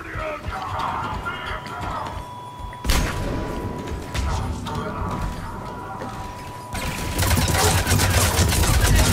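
A grenade blast in Mass Effect 3 co-op multiplayer: a sudden loud burst lands mid-clip among steady clattering gunfire and mechanical game noise, with a second surge of heavy combat racket near the end.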